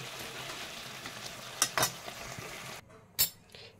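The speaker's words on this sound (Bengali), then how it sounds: "দিয়ে সমস্ত উপকরণকে একসাথে ভালোভাবে মিশিয়ে নিচ্ছি ভাজা মশলাটাকে" Fried spice mix is stirred into a banana-stem vegetable curry in a pan over a soft, steady sizzle. A few sharp scrapes and clinks of a spoon against the pan stand out, and the sizzle drops away near the end.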